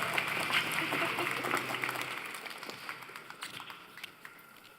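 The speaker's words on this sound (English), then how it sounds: "It's okay to clap, people." A conference audience at a tech inclusion fireside chat breaks into applause, loud at first and then thinning into scattered individual claps, with a voice speaking over the start.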